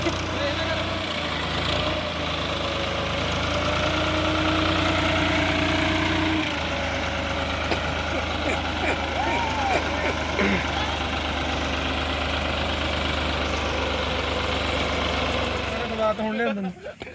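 A tractor engine idles steadily throughout, with a low continuous rumble that swells briefly as if revved, while voices talk over it before the engine cuts out near the end.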